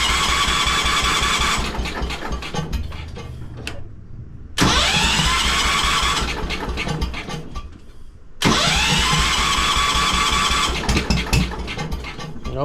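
A 1973 Wheel Horse tractor with an exhaust stack cranks and its small engine catches twice, each time running roughly and loudly before cutting out, then sputtering back to life close by.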